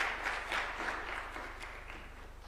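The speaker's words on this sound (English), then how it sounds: "Could we clap for the party leader of ODM as he comes?" Audience applause at a State House bill-assent ceremony in Nairobi, a broad steady patter of many hands clapping at moderate distance, fading slightly toward the end.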